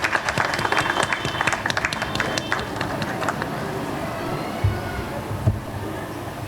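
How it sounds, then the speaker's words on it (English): Outdoor kindergarten sports day crowd claps loudly for the participants for about three seconds, then the clapping fades into ambient background with a few dull thumps. "So please give them a huge round of applause"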